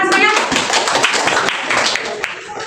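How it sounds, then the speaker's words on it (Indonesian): Class of students applauding after a presentation, a dense continuous patter of many hands clapping at close range, steady for the whole stretch, with voices mixed in. "Tepuk tangan semuanya."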